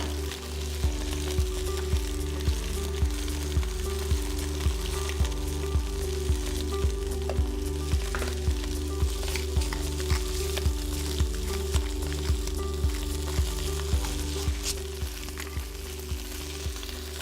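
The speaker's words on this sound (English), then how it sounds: "We're gonna put our Brussels sprouts in, they're gonna sear, everything's gonna pop" Brussels sprouts sear and pop in hot oil in a pan, a loud, continuous sizzle with a regular ticking rhythm of small pops running steadily throughout, no voices.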